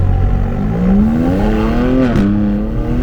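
A BMW G82 M4 Competition launching hard from a standstill with a brake-boosted start, its engine note climbing steadily in pitch, loud and close, with a brief stumble near the end before the pull continues.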